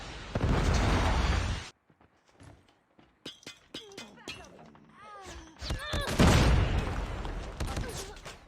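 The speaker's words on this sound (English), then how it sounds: "Hostile Predator missile inbound" A Predator missile strike explodes in a multiplayer shooter video game, a loud blast cut off abruptly, followed by scattered pops and thuds under brief talk, then a second heavy rumbling burst.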